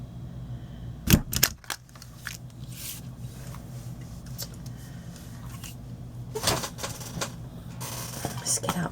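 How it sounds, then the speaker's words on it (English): A paper gift tag punched with a hole punch, a sharp crisp snap near the start followed by a few lighter clicks and handling rustles, with another cluster of crunches later. "I'm going to punch a hole in my tag and do my ribbon."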